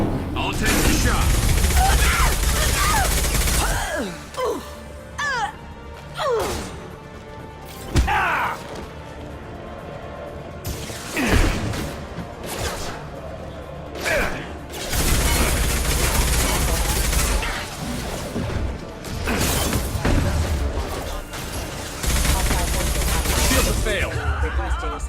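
Gunfire in a Mass Effect video game firefight, heard as loud shots and short bursts mixed with mechanical clanks and thuds, under intermittent talk and game voices.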